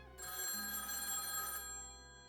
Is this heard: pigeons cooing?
no